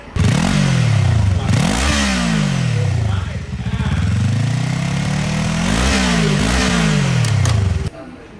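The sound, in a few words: motorcycle engine revving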